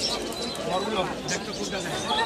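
Pigeons at the Zinjira pigeon market coo and flutter close by, their calls mixed under steady human voices in a busy market.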